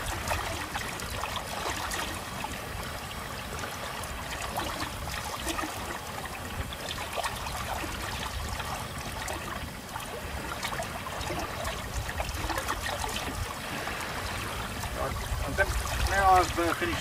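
Water swishes and trickles steadily for the whole stretch as a mixture is stirred into it in a container aboard a small trailer-sailer yacht, over constant background noise, with a slight rise near the end.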